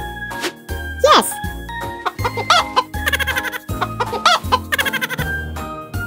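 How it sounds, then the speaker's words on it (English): A toy farm animal plays a loud recorded chicken clucking in rapid bursts, over a bright jingly musical backing, with a voice heard briefly. "Chicken."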